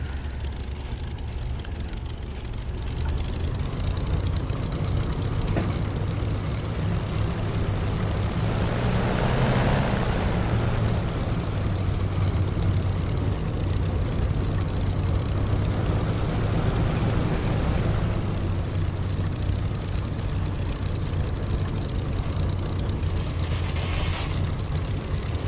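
A Spitfire Mk IX piston engine in a flight simulator runs steadily before taxi, a loud continuous propeller drone that swells and eases slightly in pitch midway.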